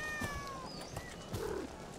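A cat meows in a video game, giving several drawn-out, pitch-bending cries, some overlapping, over a steady backdrop of game sound.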